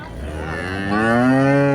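A small calf lets out a single drawn-out moo, close by at the Chintamani cattle market, rising in loudness toward the end.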